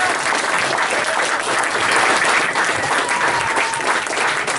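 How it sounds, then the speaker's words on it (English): Sustained applause from a large audience at a memorial gathering, dense and steady throughout with no pauses, filling the room at a fairly loud level. "let's keep that applause going"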